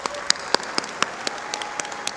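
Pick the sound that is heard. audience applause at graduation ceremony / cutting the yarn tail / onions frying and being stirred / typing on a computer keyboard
audience applause at graduation ceremony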